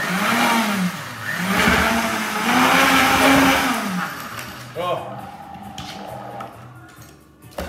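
A Wolf blender whirs loudly in steady pulsing bursts for several seconds, blending watermelon and raspberry, then winds down to quieter clatter and rattling.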